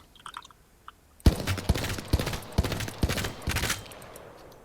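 A Hemlock burst rifle fires in Apex Legends after a quiet start. Several rapid bursts of sharp, punchy shots come in quick succession, close and loud.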